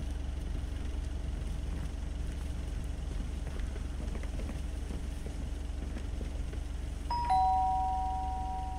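Doorbell chime in the video game Lake, a two-tone ding-dong ringing once near the end over a steady low ambient hum.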